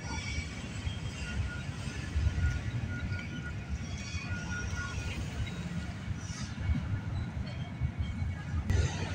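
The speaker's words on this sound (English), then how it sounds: "As soon as this train passes" Double-headed Union Pacific freight train rumbling past at night at West Toronto, a steady low roar with rattling wagons that holds evenly throughout, fairly close, with no talking.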